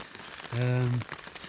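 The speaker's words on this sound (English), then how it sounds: "I guess it will continue raining" Rain patters steadily on a tent on the Cape Wrath Trail in the Scottish Highlands, a soft continuous hiss with a short hummed voice tone rising over it midway.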